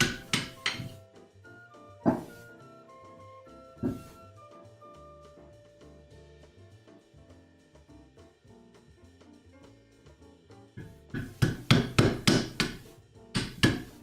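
A mallet strikes a chisel in Japanese joinery work on a wooden sawhorse, sharp woody knocks spaced a couple of seconds apart, then a quick cluster of several blows near the end, close and loud over a faint background of music.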